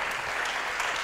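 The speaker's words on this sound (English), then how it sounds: "we will give him an applause to welcome him" An audience at an art museum seminar welcomes a speaker with dense, continuous applause: a steady, even wash of many hands clapping at once, moderately loud and close, with no talk over it.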